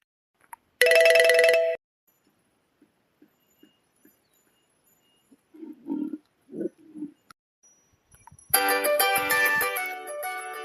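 A telephone rings in two loud bursts separated by a quiet gap with a few soft taps and brief muffled sounds, the second ring trailing on.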